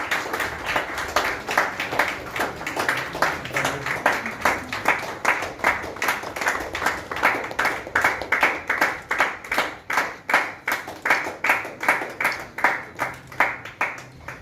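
Clapping fills the hall at a commerce teachers' award ceremony in Kerala, settling into steady, fairly even rhythmic claps from a modest crowd that continue to the end.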